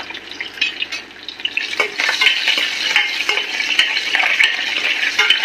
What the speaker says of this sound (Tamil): இது எல்லாம் நல்லா பொரிஞ்சு வந்ததுக்கு அப்புறம் நம்ம இதுல சின்ன வெங்காயத்தை ஆட் பண்ணலாம்.